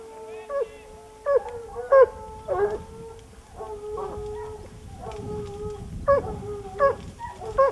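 Pack of hunting dogs on a fox's trail through reeds, giving repeated yelping howls and yips in uneven bursts, several voices overlapping at moderate distance.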